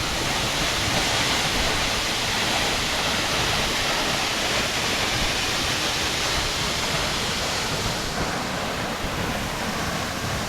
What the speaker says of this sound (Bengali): মানে ঝর্ণাটা দেখুন